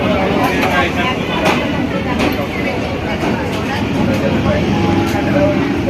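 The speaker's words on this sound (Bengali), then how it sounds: "তো বন্ধুরা এখন আমরা ট্রেনে উঠে গেছি" Loud, continuous rumbling and clattering of a local train in motion heard from inside a car, bound for Agarpara, with occasional sharp knocks and murmured voices underneath.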